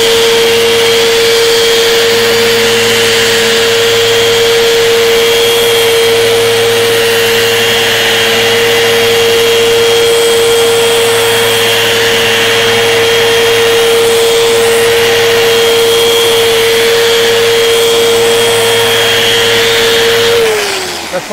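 A Festool Rotex sander works a surface at 120 grit, giving a loud, steady motor whine with a constant high tone that runs unbroken for about twenty seconds before spinning down at the end.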